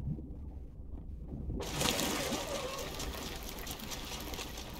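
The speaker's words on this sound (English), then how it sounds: "we got a lot of water" Water rushes into a ship during a naval battle in a video game: a constant broadband gush and sloshing that swells suddenly and stays loud and steady.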